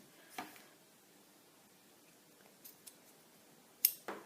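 Scissors snip through pieces of ribbon in a few crisp, separate cuts, spaced irregularly over a quiet background with no talking.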